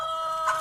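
A sick chicken with the respiratory illness known locally as ngorok gives a brief, close cluck over a steady background hum.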